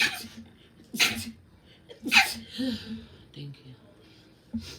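Two sharp sneezes burst out about a second apart, close and loud, each followed by breathy sounds, and a person says a few words soon after.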